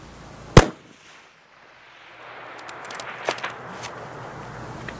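A single sharp, loud long-range rifle shot cracks at a shooting-competition stage with a moving target, followed by a quiet outdoor lull and a fainter, more distant report a few seconds later.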